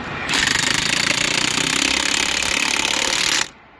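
An impact wrench works on a Cummins truck, hammering in one loud, steady burst of about three seconds that stops abruptly.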